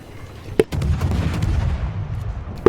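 Naval guns in a naval video game fire at an enemy ship: two sharp cannon cracks a couple of seconds apart, with rumbling low booms and battle noise rolling on between them.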